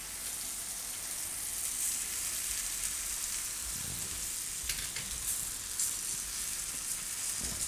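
Soaked flattened rice (poha) is tipped into a hot pan and stirred, producing a constant close sizzle with soft scraping and mixing movements throughout.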